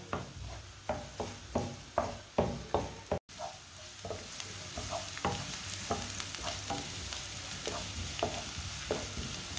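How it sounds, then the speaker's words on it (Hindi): Onions fry in hot oil on a stovetop, a quiet sizzle under a regular rhythm of spatula strokes against the pan, pausing briefly before a steadier, busier frying sound continues. "प्याज को 2 मिनट के लिए मैंने पका लिया है।"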